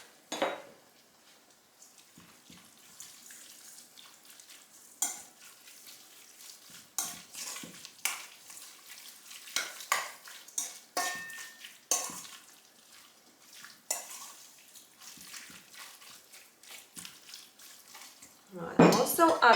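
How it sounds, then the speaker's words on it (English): Ingredients with barbecue seasoning get stirred in a bowl, producing a long series of irregular scraping and clinking strokes of utensil against dish, quiet between strokes, with a louder clatter at the end. "And now we're gonna give it a good mix."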